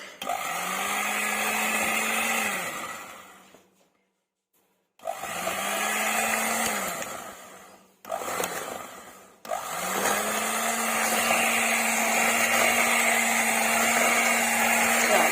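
An electric mixer whirs through chocolate cake batter with cocoa powder in loud, steady bursts, stopping and restarting three times with short silent gaps before a final long run.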